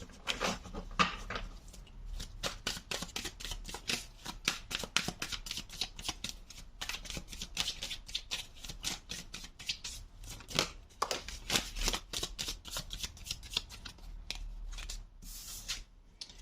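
Tarot cards are shuffled close up, with rapid riffling bursts and soft flicking slaps repeating steadily at a quiet level, and no talk over them.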